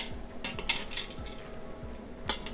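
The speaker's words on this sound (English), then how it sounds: "distribute some of this ghee on these onions, like so" A utensil scrapes and clinks against a pan while ghee is spread over translucent onions. Several light metallic taps and scrapes sound close by over a faint background, with no talk.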